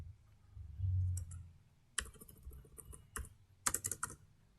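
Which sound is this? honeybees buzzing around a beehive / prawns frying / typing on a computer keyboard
typing on a computer keyboard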